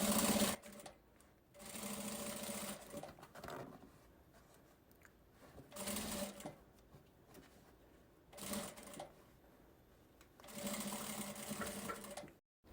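A sewing machine stitches fabric for a children's 3D backpack in several separate runs of whirring needle strokes, each lasting a second or two, with quiet pauses between them, close by and alone.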